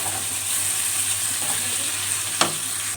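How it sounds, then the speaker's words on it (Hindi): Garlic-ginger paste frying with browned onions in a pan for a mutton curry, a steady close sizzle throughout with one brief clink or stir near the end. "अब इसको हम सही से ब्राउन करेंगे, लहसुन अदरक के पेस्ट को।"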